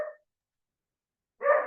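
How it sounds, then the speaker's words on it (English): A single dog's bark is cut off at the start, then after a long silence a second loud bark sounds, close and clear, with no voices. "Why is my dog barking?"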